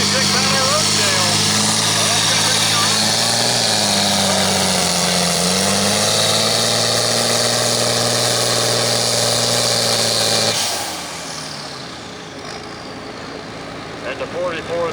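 An International 1066 farm tractor set up for pulling idles loudly and steadily, its engine note dipping briefly mid-way, then cuts off, leaving quieter background noise.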